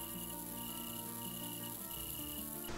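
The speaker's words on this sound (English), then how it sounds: "this ambient sound of crickets chirping at nighttime" Crickets chirp at night in a dense, steady ambient chorus of high, sustained trills layered together, even and unbroken throughout with no talking.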